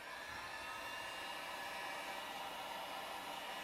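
A heat gun blows a steady, loud, close rush of hot air onto heat transfer vinyl, an even hiss that holds unchanged for the whole stretch with no other sounds.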